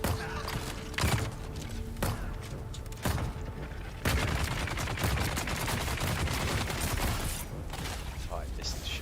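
Gunfire in the survival game Dune: Awakening, several sharp separate shots in the first seconds followed by a denser, sustained burst of firing with rattling impacts, loud and close, amid game noise.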